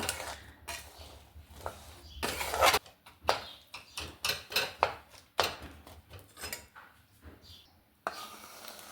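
A metal spoon stirring whole roasted chickpeas into a sweet mixture in a dish, producing irregular scraping, clinking and rattling strokes, close and fairly quiet, with pauses between bursts.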